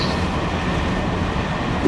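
Steady low rumble of an SNCF TER regional train bound for Basel, heard from inside a carriage while moving, a continuous even roar with faint rail noise and no speech.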